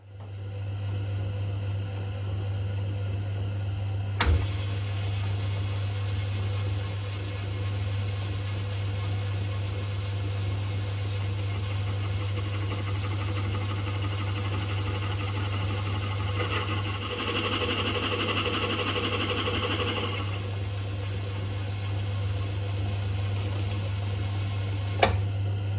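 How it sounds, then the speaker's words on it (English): A lathe spins steadily while turning a leather burnishing tool for a shoe machine, giving a constant motor hum with a low drone, brief clicks near the start and end, and a louder whirring stretch partway through, with no talk. "I'm going to have to do it on the lathe."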